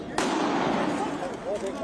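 A single sharp pistol gunshot bang rings out inside the Golden Temple, the bullet hitting a wall, followed by a noisy wash of commotion with voices underneath.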